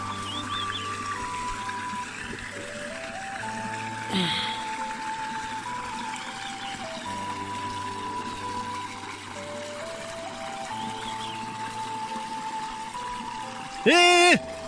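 A small mountain stream in the countryside trickles and pours steadily at a moderate level, with a brief louder splash near the end.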